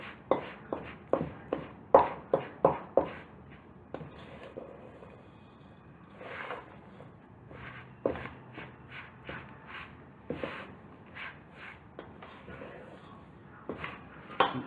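Honey granola cookie dough being mixed in a bowl, heard as a series of soft, irregular thumps and scrapes of a utensil against the bowl, fairly close and quiet, with brief pauses between strokes and no talking.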